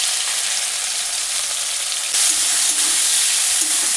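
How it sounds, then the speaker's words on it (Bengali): Salted shrimp frying in oil in a wok, a loud steady sizzle that jumps a little louder partway through, with no talk. "এগুলো আগে আমি কড়াইতে ভেজে নিব"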